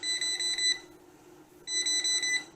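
An electrical voltage tester held to live wires during the installation of a Teckin SR40 smart wall socket gives a loud, shrill rapid beeping in two bursts, with a brief pause between them.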